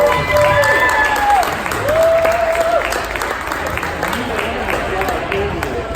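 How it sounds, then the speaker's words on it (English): An audience at a designer of the year fashion finals breaks into loud, sustained applause and cheering, a dense wash of clapping that carries on throughout while voices speak over it. "So let's give them a big round of applause."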